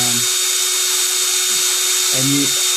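An electric drill bores an air hole in a Kayfun atomizer, its steady high motor whine running throughout with two short bursts of low grinding as the bit bites into the metal.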